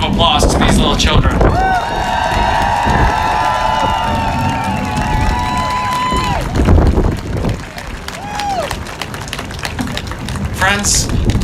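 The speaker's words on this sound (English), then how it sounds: "let's give an even bigger round of applause to these little children" A crowd at an outdoor Stand with Ukraine rally in Washington DC cheering and applauding for children, loud clapping and whoops mixed with singing voices and heavy wind buffeting the microphone.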